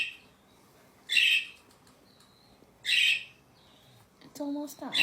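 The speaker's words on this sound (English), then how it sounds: "can you hear our birds flying around?" Pet budgies chirp in two loud bursts of high, bright calls, with softer tweets and faint fluttering between them, close by in a quiet room.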